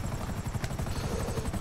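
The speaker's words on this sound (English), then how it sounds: "You've got two choppers on you." Helicopters chase through a driving video game, their rotors thumping in a fast steady chop that fills the scene loudly and continuously, with no voices over it.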